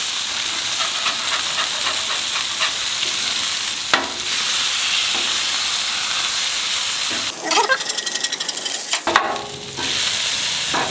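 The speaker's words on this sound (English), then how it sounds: "get your spatula, bring it together, and flip" Brisket smash burger patties hiss steadily on a hot griddle, with a few metallic spatula scrapes and clacks as they are flipped near the end, close and loud, with no talk.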